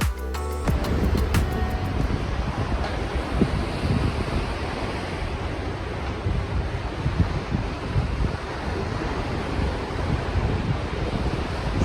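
Wind and waves as the cruise ship Marella Discovery sails from Patmos in the Aegean, a loud continuous roar of wind noise over rushing sea, steady throughout with no talk.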